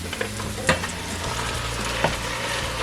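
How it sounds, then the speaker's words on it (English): Ground beef sizzles with sautéed vegetables in a pan over medium-high heat for a hearty beef chili, a steady crackling fry broken by a couple of sharp utensil knocks. "Now we're gonna go ahead and add our beef, our ground beef, and we're gonna just cook this up."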